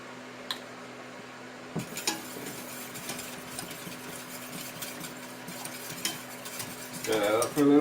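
Spices, salt and mustard being stirred into a vegan scalloped potato mix, with a spoon scraping and clinking against the bowl in irregular strokes, then louder clatter at the end.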